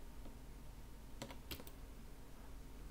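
Keys tapped on a computer keyboard during frame-by-frame animation work, with a few quick, sharp clicks standing out over a steady low hum before the room falls back to quiet.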